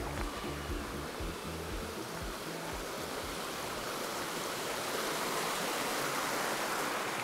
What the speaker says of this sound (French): on se trouve à la cascade de Canon, vous voyez, qui est assez bruyante